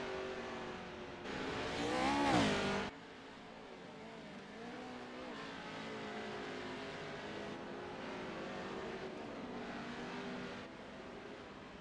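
AMX CG Motorsports Pro Lite race cars on the final lap of a track race, with one engine swelling loud as a car passes close, then a steady distant drone of cars circling.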